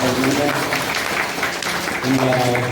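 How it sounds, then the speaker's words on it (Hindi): Audience applause for the hosts at a Hindu devotional bhajan gathering, a steady, loud wash of clapping running the whole time, with a tonal voice or music line over it. "एक बार जोरदार ताली के साथ"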